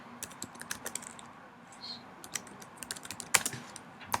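Keys click on a computer keyboard while entering data in a spreadsheet, a quiet, close run of irregular light taps with a few louder strokes.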